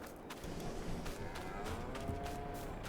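Cows moo in the Farming Simulator 22 video game, a low drawn-out bovine call, fairly quiet over soft background noise, with no talking.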